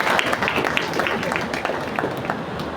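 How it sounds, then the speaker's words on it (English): An audience applauds a speaker at an inaugural address for a lecture series, producing a dense, steady patter of many hands clapping at moderate loudness throughout. "Please give her a round of warm round of applause."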